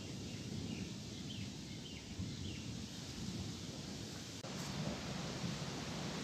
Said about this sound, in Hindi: आप देख सकते हैं कैसा तूफ़ान आया था